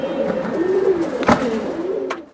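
Pigeons kept in a loft, among young racing Giribaj and Pankhi birds for sale, coo nearby in two low, wavering phrases, broken by a sharp click midway and a brief tap before the sound cuts off.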